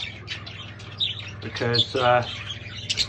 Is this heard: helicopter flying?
no